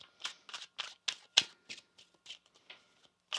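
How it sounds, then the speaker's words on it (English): Tarot cards shuffled by hand in a dozen or so quick, crisp riffling bursts, close up and steady in rhythm, with no voices. "One more shuffle."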